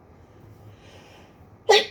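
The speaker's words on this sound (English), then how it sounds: "I have to sneeze" A single loud sneeze bursts out near the end after a few seconds of near silence and quiet breathing.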